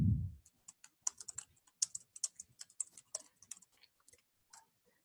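Text typed on a computer keyboard, crisp key clicks in quick uneven bursts, close and clear in a quiet room, tapering off toward the end with no talk.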